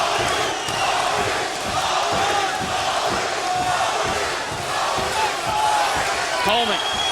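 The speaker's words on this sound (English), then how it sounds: "the crowd getting behind Smith right now. And they're chanting Maurice" Arena crowd at a 1997 UFC heavyweight championship fight chanting for fighter Maurice Smith, a rhythmic roar of many voices that continues steadily throughout, with a commentator's voice over it.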